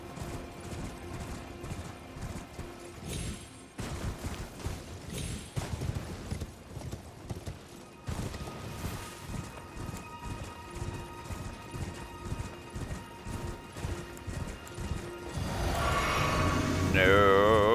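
Rapid rhythmic hoofbeats of a galloping horse in the video game Elden Ring pound steadily, with clattering impacts and a rising whoosh near the end; a voice speaks briefly over it.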